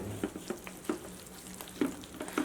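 Spoon stirring jalebi batter made with curd in a bowl, giving a series of soft, irregular scraping and slapping strokes, close and fairly quiet, with no talking.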